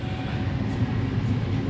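Argo Bromo Anggrek express train standing at Bojonegoro station before departure, giving a steady low rumble and hum that holds evenly throughout, with no talk.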